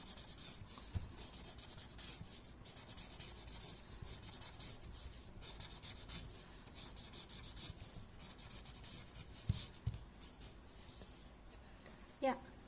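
Chalk is blended across a paper drawing tile in soft, continuous close-up rubbing strokes, quiet and steady, with a couple of small taps near the end.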